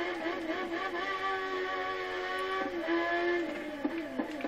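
A Formula 1 car engine in the video game F1 2013, driven without traction control, wails at high pitch and shifts up and down through the gears, steady and loud with no talk.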